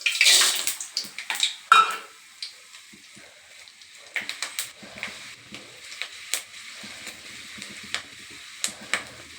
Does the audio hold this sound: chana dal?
yes